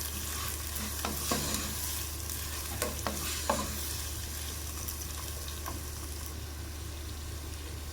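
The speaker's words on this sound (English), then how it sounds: "Stir fry the onions for around 4 to 5 minutes" Chopped onions stir-fry in a pan, giving a steady, quiet sizzle with a few sharp scraping clicks and taps from the spoon, low hum beneath.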